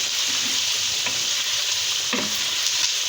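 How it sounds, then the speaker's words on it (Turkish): Constant crackling sizzle of potatoes frying in hot oil in a frying pot, with a few soft clinks of stirring. "Burada da patatesimiz kızarıyor."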